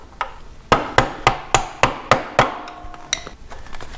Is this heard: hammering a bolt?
yes